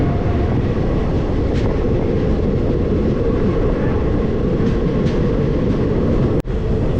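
Train 17046, the Anakapalle–Charlapalli service, pulls out with a loud, dense rumble of wheels and carriages close by, steady throughout, broken by one sharp brief knock near the end.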